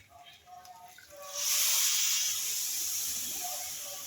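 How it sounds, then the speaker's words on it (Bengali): Coconut milk hits frying rice for pulao and bursts into a loud, steady sizzling hiss that swells suddenly and then slowly fades. Faint voices murmur before the pour. "আম্মু পুরোটা নারিকেলের দুধ দিয়ে দিল"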